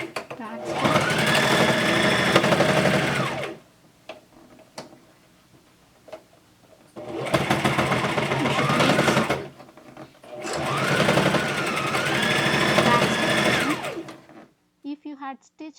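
A sewing machine back stitching a cloth face mask runs in three loud, steady bursts separated by short pauses with faint clicks, and a voice is heard briefly at the end.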